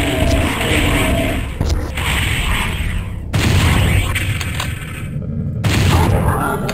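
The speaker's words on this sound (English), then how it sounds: "I want to use my rocket launchers." Loud, booming blasts from a rocket launcher in Doom 64, three or four heavy bursts in quick succession, each with a rumbling explosive tail.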